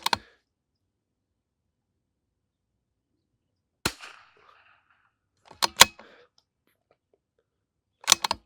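Rifle shots fired with Eley Ultra Extreme long-range ammunition at an outdoor range: several sharp, fairly faint reports and clicks, irregularly spaced and separated by long stretches of near silence.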